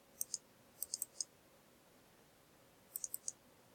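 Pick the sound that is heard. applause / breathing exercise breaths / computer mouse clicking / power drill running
computer mouse clicking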